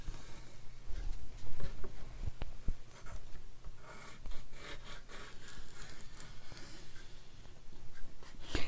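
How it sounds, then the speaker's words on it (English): A bone folder presses and creases paper in a glued craft project, giving a steady, close rubbing and scraping with brief sharp taps, continuous throughout and without any voice. "we're going to need our bone folder."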